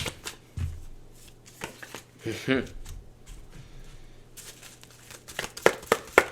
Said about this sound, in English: let me just pull some cards for you